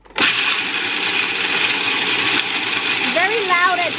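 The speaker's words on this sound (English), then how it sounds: "So with my food processor, I am going to add my almonds." A food processor grinding almonds into almond butter, a loud, continuous whirring roar starting abruptly and running steadily close by.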